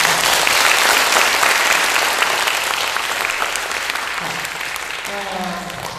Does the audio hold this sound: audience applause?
yes